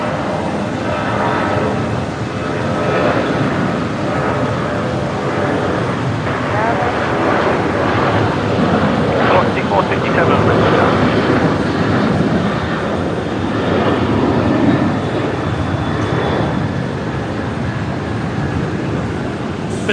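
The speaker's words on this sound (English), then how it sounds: "Let's quickly catch the departing aircraft. Qantas 543 heading to Sydney." Qantas 543, a heavy jet, departing Brisbane Airport for Sydney, its engines a loud sustained roar throughout, with a person talking over it.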